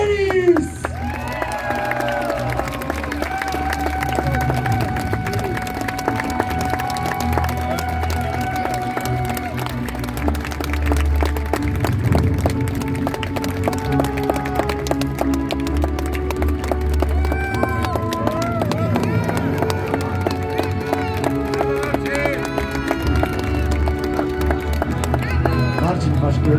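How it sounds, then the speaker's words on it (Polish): Crowd applause and cheering greet the winner at the Złoty Pas Grunwaldu 2022 tournament award ceremony, steady and sustained for the whole stretch, mixed with music and voices in an outdoor crowd. "Wielkie, wielkie brawa dla niego."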